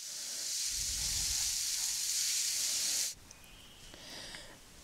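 Steady sizzle of scrambled fish puttu stir-fried in a nonstick pan, a continuous hiss for about three seconds that drops abruptly to a quieter background with faint scraping.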